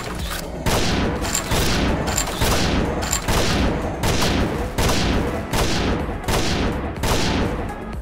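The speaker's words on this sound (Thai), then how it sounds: "เสียงเพื่อนยิงอยู่ห้องเอบนนะ" Rapid gunfire from a teammate in the video game XSHOT, loud repeated bursts about once a second with brief gaps between them, sharp and close, with no talking.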